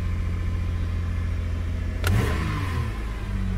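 A 1999 Toyota Avalon at a windy dealer auction cranks and catches about two seconds in, a brief starter burst followed by a steady idle rumble, with wind noise present throughout.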